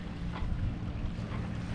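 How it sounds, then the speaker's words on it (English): Steady wind rushing over a sailboat running under a large headsail with a 10 to 20 knot breeze from astern, a constant low roar with faint water wash and no voices. "There's like about 10 to 20 knot winds right on our stern."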